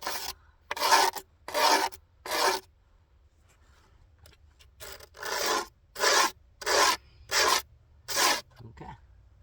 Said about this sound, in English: take a screwdriver or something metal, and you can scrape on there